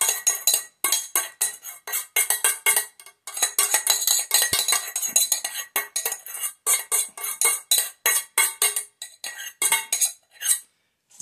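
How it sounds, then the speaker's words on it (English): Wild rice and liquid tipped into a pan with butter, heard as a steady run of small clinks, taps and scraping utensil-on-pan clatter, close and fairly loud, with short pauses between bursts and no talking. "I'm just going to add the wild rice and the liquid to it."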